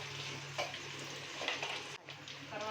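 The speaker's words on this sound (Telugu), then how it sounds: "దాల్చిన చెక్క, బిర్యానీ ఆకు, జాజికాయ, యాలక్కాయ, లవంగం అన్నీ వేసుకొని వేయించుకోవాలి" Whole cinnamon, bay leaf, nutmeg, cardamom and cloves fry in hot oil for an egg biryani, giving a steady soft sizzle with a few faint stirring clinks throughout.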